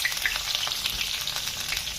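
Momo dumplings frying in hot oil, a steady, loud, close-up crackling sizzle with a dense spatter of bubbling pops throughout.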